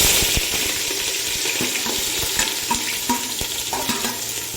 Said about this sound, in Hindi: ये हमारा ऑयल जो है अभी गर्म हो चुका है। अब हम इसमें प्याज डालेंगे।